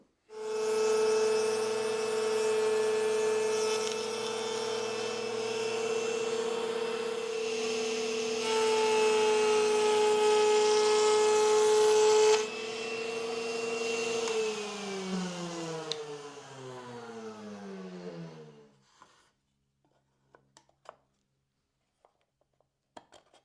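A power tool cutting a rabbet along the edges of wood panels, a loud steady motor whine with a strong hum that runs for a long stretch, then winds down and falls silent, followed by a few small clicks.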